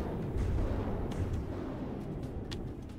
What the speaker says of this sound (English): massive EMP barrage there